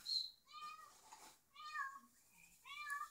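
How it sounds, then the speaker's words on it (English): A cat meows repeatedly in three clear, drawn-out calls spaced about a second apart, close and fairly loud against a quiet room. "She's meowing so much."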